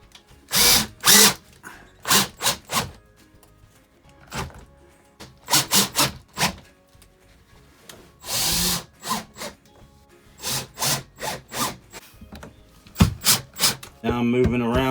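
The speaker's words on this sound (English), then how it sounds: "If we have to pre-drill new holes and then set these through, we can." A power drill bores pre-drilled screw holes into an RV wall during a rebuild, sounding as repeated short whirring bursts of varied length with brief pauses between them, close and loud.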